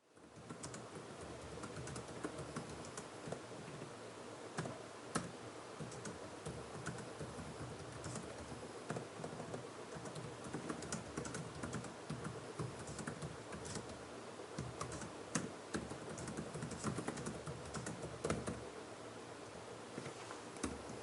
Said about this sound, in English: let me just type something on the keyboard